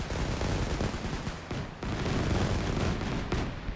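Dense gunfire and machine-gun bursts from a real-time strategy war game, heavy rapid shots layered with booming impacts, loud and continuous with two brief breaks.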